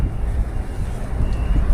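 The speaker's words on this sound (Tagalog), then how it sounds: "Medyo mahangin din ngayon." Steady wind blowing outdoors on open water near a boat during bangus (milkfish) fishing with a net, a continuous low rumbling buffet across the microphone with no pauses.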